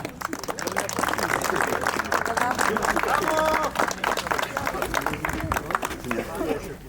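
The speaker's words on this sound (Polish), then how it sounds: "Wielkie brawa." Crowd clapping and cheering for the third-place finishers at a KJS rally awards ceremony, dense applause mixed with voices and chatter throughout, peaking mid-way then easing.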